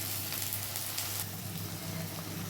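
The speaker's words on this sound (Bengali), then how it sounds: "একটু গ্যাসের ফ্লেমটা কমিয়ে নিই, নাহলে ফট করে ছিটবে আমার গায়ের মধ্যে। সব দিয়ে দিলাম পেঁয়াজগুলো।" Chopped onions frying in oil in a pan over a lowered gas flame, giving a steady, close, soft sizzle with faint crackle throughout.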